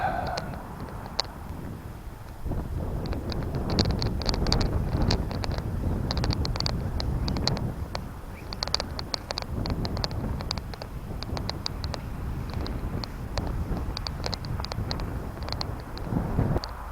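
Wind rushes steadily across the microphone while a kite flies at Webbs Heath, a constant loud buffeting with intermittent thumps and flutters.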